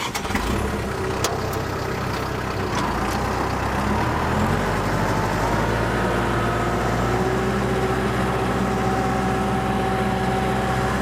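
A tractor engine runs steadily at a constant loud drone while pulling a garden bedder through soil to form a wider, higher-hilled furrow, with no talk over it.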